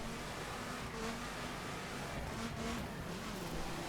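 A car drifting in the racing video game The Crew 2 gives a continuous engine drone wrapped in broad road and tyre noise at a steady, moderate level.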